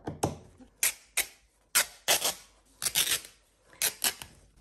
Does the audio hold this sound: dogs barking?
no